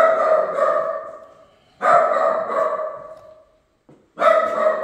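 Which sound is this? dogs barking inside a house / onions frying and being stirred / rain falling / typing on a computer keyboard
dogs barking inside a house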